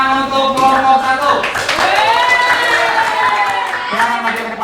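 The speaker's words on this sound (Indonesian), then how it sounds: "Berikan tepuk tangan untuk kelompok 1." Students in a junior high classroom clap for a student group, scattered hand claps blending with lively children's voices and chatter that runs throughout.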